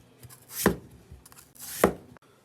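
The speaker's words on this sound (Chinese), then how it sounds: "土豆切成滚刀块" A knife chopping potatoes into chunks on a board for a braised chicken dish, two loud, separate chops about a second apart with quiet pauses between them.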